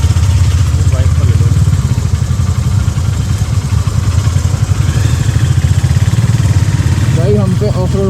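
An off-road motorcycle engine rumbles steadily and close at idle or low revs on a hilly road trip route, with voices talking over it throughout.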